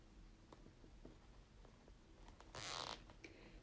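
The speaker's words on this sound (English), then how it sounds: "I'm going to zip tie it up the middle." A quick, bright ratcheting zip of a zip tie being pulled tight at close range, a short burst of rapid clicks standing out from faint handling noise.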